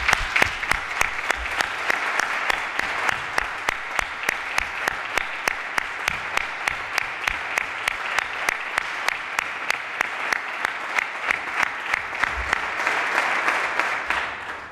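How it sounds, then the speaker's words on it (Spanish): Loud, sustained applause from a large crowd filling a football stadium, with the upper ring of stands joining in a steady, evenly pulsing clapping that runs unbroken for the whole stretch without talk. "desde el tercer anillo quiero que escuchen este fuerte aplauso"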